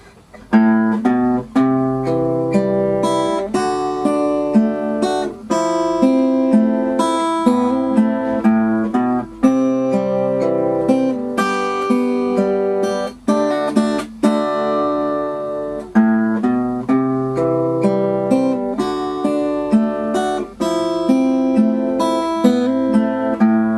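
Plucked acoustic guitar plays a steady fingerpicked pattern of chords and melody, clear and up close, with no voices.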